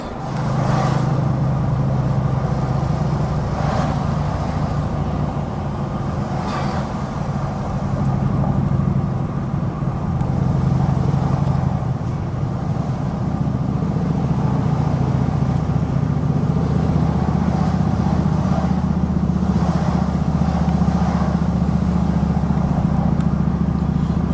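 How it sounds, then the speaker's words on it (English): Car driving along the road into Moab, Utah, a steady engine hum and tyre rumble holding close and continuous throughout, with a low drone and slight swells in level. "We're driving into Moab finally after a lovely night's camp."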